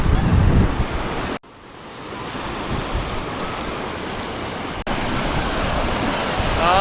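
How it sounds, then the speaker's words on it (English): Ocean waves wash and break on a sandy beach in a steady, loud roar of surf with wind buffeting the microphone, briefly dropping out twice; a voice is faintly present underneath. "Here's another wave, buddy."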